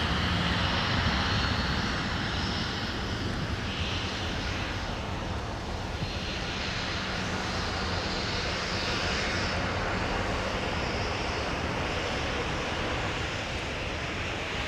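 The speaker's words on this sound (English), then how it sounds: "C-130s on arrival." Lockheed C-130 turboprops arriving at Minneapolis–Saint Paul airport in winter, a loud, sustained engine roar with a steady drone, heard alone without voices.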